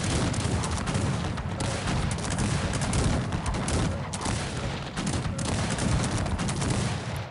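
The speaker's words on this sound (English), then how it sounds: "Shoot guys, kill him." Musket volleys crackle through a Cossacks 3 battle in a dense, continuous fusillade of overlapping shots and booms, loud and sustained with no pauses, with no voices heard.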